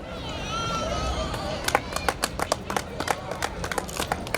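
Applause for Santosh at a 2019 Dr. Ambedkar Jayanti gathering in Sarita Vihar: after a stretch of murmuring crowd noise, sharp separate claps arrive in a quick, uneven rhythm, fairly close and moderately loud.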